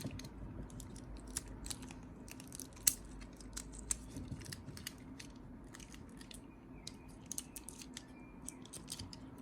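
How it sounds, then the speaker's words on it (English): Scissors snipping tape from a Flysky FS-i6S transmitter battery, a quick run of close, crisp small snips and clicks, quiet and without voices. "Cut the tape off."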